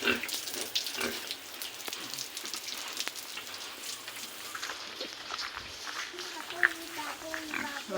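A pig being bathed, water splashing and dripping in an irregular patter with occasional grunts, heard under voices talking nearby at moderate distance.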